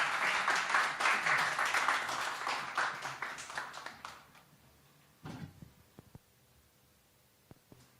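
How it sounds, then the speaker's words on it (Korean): A church congregation applauds a visiting professor at a Sunday service; loud clapping for about four seconds tapers away, leaving a quiet room with a few scattered taps and rustles. "수고해 교수님께 우리 한번 박수 드리도록 하겠습니다."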